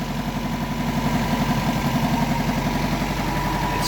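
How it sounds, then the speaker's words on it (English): Carbureted Toyota Corolla 4A-F engine idling steadily at close range, with a radiator fan whirring alongside in a continuous, even hum. "The fan just kicked in."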